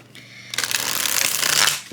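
A deck of Waite Smith tarot cards is shuffled by hand at close range. Crisp riffling and rustling builds into a steady, dense flutter over about two seconds, and no one speaks.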